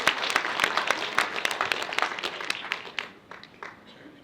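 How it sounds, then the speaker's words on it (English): Audience applause at a members-only casino grand opening on the Prairie Flower Casino grounds, dense steady clapping from a crowd that gradually thins and fades over a few seconds. "may we have just one more round of applause for everyone that came out today."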